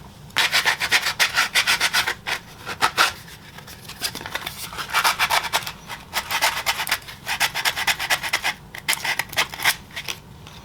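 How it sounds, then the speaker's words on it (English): Sandpaper works a polymer Glock 19 Gen 5 pistol frame in rhythmic bursts of close, raspy back-and-forth rubbing strokes, with brief pauses between sets. "Now we're gonna go to sandpaper."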